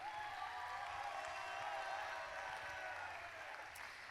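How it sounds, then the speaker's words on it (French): Crowd applause for the course landaise commission at the closing ceremony of the Dax festival, a steady wash of distant clapping heard faintly throughout. "On peut applaudir la commission course landaise."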